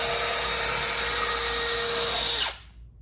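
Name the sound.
Milwaukee power drill boring into wood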